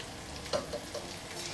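Crab being stir-fried with roasted chili paste in a pan. A quiet, even sizzle runs throughout, with a few faint clicks from stirring.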